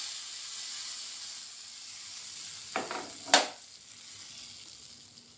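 Faint background hiss, then two sharp bursts of sizzling as hot tempering oil is poured over a chana dal dish, quickly fading back to a soft simmer.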